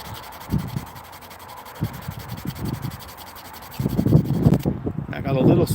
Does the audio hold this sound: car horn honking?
no